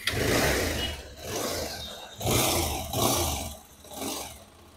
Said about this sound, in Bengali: এবার বাইকটাকে আমরা স্টার্ট করব।